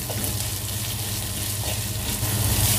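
Sliced onions and salt frying in a pan for a Kerala fish molly: a dense, continuous loud sizzle with soft stirring scrapes underneath, close and steady, no talking.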